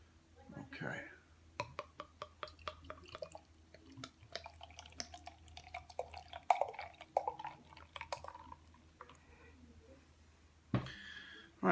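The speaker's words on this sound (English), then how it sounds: "I didn't go too aggressive on the pour" Singlecut Soulbender IPA is poured gently from a bottle into a glass, with soft, rapid glugging and trickling ticks running for several seconds, close and quiet.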